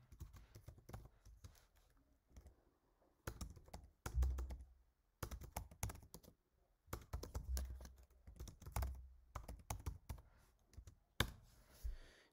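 Typing a command on a computer keyboard in a terminal, crisp clustered keystrokes in short irregular bursts separated by pauses, close and fairly quiet, with no talking.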